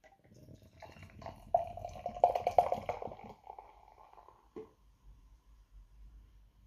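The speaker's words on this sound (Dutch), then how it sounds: "Hij sist lekker in het glas al." Cold Belgian tripel being poured into a glass, a wet gurgling splash that builds and fizzes for about three seconds, then the foamy head hissing softly as it settles.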